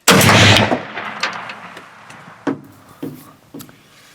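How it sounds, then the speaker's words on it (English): A 12 gauge shotgun fired at a deer in a field: one loud, close blast that rolls off into a long fading echo, followed by several fainter thumping reports. "I grab the 12 gauge, put her down."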